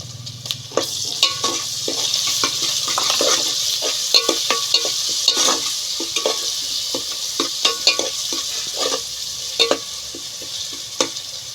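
Onions fry in a pot over a wood fire with turmeric and ginger paste for a fish curry, giving a constant loud sizzle broken by frequent scraping clicks of a stirring spoon.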